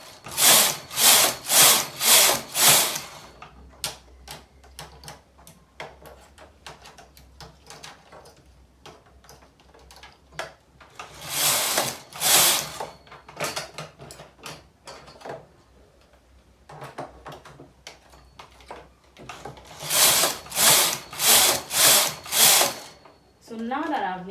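Rows knitted on a Brother knitting machine while making baby socks, heard as three loud bursts of rapid, rhythmic rattling carriage passes separated by quieter stretches of handling noise.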